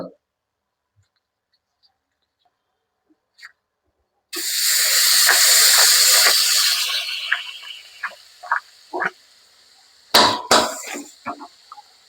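Butter hitting a hot kadai over a low flame, silence broken by a sudden loud sizzling hiss that swells and slowly fades, followed by scattered clicks and short utensil knocks, with speech nearby.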